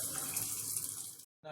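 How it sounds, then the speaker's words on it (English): Cold water running steadily from a tap into a sink, a constant hiss that stops abruptly near the end. "Now we turned up the cold water and we let it dry a little bit."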